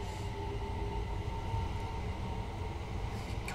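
A First Capital Connect train runs steadily in the Train Sim World 2 video game, with a continuous loud rumble of wheels and rails and a low motor hum throughout.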